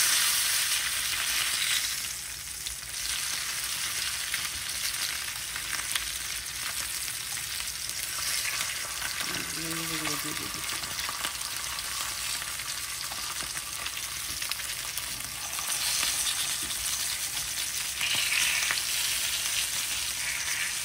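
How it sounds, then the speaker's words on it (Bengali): Fish fry in a pan with a loud, steady close sizzle and crackle that runs throughout, briefly dipping and swelling, with a faint stir or clatter midway and no talking. "মাছগুলো ভাজা হয়ে গেছে"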